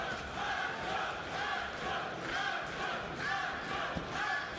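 A large crowd roars and chants in rhythmic waves at a combat-sports fight, a rolling din of many voices filling a big arena at a moderate distance.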